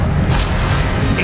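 A Confringo blasting spell from Hogwarts Legacy, a loud low booming explosion with dense rumbling filling the whole short moment.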